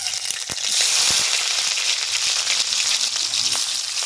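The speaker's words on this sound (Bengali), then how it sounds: "গরম হয়ে গেছে, শুকনো লঙ্কা আর 5 ফোড়ন দেবো, পেঁয়াজ কুচানো দেবো" Dried chilli, five-spice seeds and chopped onion fry in hot oil, a steady bright sizzle running throughout with a few small pops and scrapes near the start.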